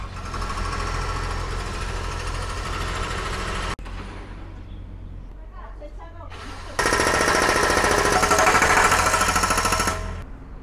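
A jackhammer pounds at a road construction site outside the Song Shaodi imperial tomb in Shenzhen, loud and close in a rapid rattle, cutting out briefly before restarting even louder and continuing steadily.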